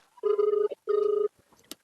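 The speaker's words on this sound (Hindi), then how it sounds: "सारू भाई लगा फोन लगाई थे उठाए तो नहीं।" An outgoing phone call rings back twice in steady, buzzing tones with a short gap between them, loud and close, followed by faint clicks.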